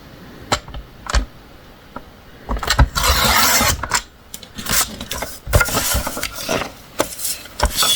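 Scrapbooking paper being cut to size, with a series of sharp clicks and snaps from a paper trimmer and a rough swishing slice through the sheet, close and fairly loud, without talk.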